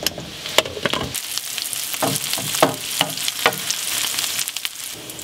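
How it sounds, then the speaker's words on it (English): Onions frying in oil for mujadara give a steady close sizzle, broken by repeated sharp scrapes and clatters of stirring, with no voices. "While the onions are caramelizing, I like to add some sumac."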